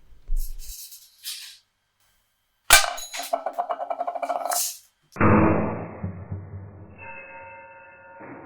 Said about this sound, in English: Here is a big bean can, and I'm going to shoot it with the BB gun.